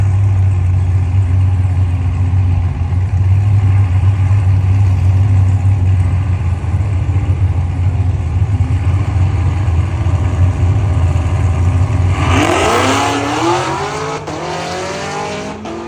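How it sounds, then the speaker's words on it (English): An 800 hp Cadillac CTS-V engine roars loudly and steadily at high revs for a long stretch at a drag race, then climbs sharply in pitch as it accelerates away and fades slightly. "I got it when it was revving up."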